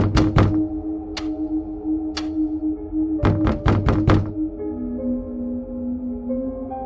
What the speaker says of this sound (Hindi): कोई तो ऐसा है जो लगातार दरवाजा खटखटा रहा है।